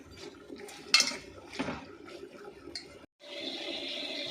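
A spoon stirs a pot of goat liver and broad beans curry, with wet clinks and scrapes against the pot at close range and a sharp knock near the start, followed by a steady simmering hiss.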